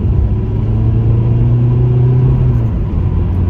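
A Ford Mondeo ST TDCi diesel pulls hard in third gear, its loud, close engine drone rising steadily in pitch under a constant road rumble.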